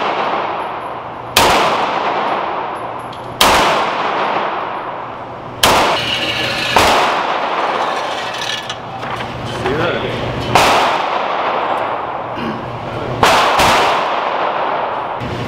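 Shots from a double-action handgun at a shooting range ring out as six sharp, loud reports spaced a couple of seconds apart, each followed by a decaying echo, with people talking between the shots.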